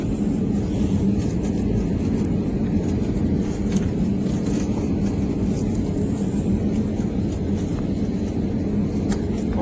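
An Emirates airliner lands at Dubai airport, a loud, constant low roar of engines and airflow filling the cabin without letup for the whole stretch.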